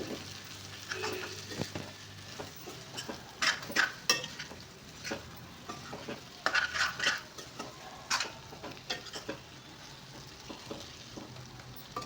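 A spoon stirs stuffed brinjal curry in a hot pan, scraping and clinking against the metal over a soft, steady sizzle, the knocks coming in irregular bursts close by.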